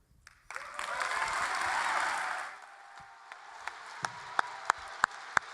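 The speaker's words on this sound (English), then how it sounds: "Round of applause for Samuel." Audience applause for a rapper after his verse at a rap battle event: dense clapping and crowd noise swell for about two seconds, then fade into a few sharp, scattered individual claps.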